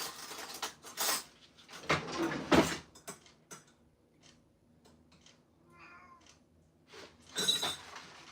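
A house cat that has just come indoors gives a brief, soft meow amid kitchen clatter of cups and a kettle, with no talking.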